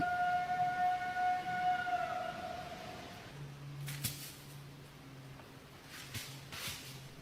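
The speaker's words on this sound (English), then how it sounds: "The siren." A wailing siren rises and falls steadily in the distance, then fades and gives way to fainter low tones and a few scattered clicks.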